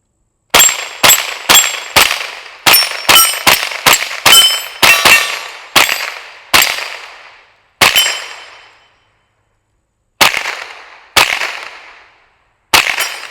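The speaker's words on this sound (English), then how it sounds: "I have the ZK22 bullpup for the Ruger 1022 in my hands. Let me shoot it a few times." Ruger 10/22 rifle fitted in a ZK22 bullpup stock fired outdoors, about seventeen sharp, loud cracks each ringing out, coming rapidly at first, then spaced further apart with pauses, no talking.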